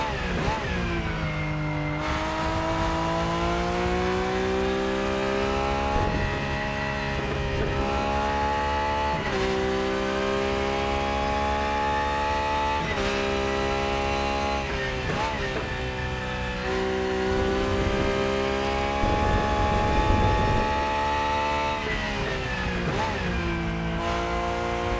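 A Porsche 911 GT3 Cup in a racing video game at Hockenheimring screams at high revs, with repeated sharp downshifts and upshifts stepping the engine pitch up and down, loud and continuous.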